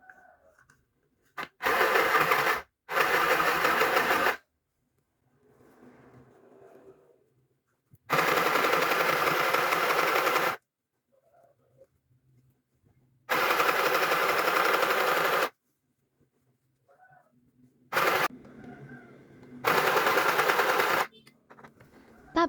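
A portable mini sewing machine stitches a pillowcase along a long seam, running in loud, steady mechanical bursts of a few seconds each, separated by quiet pauses with faint handling noise.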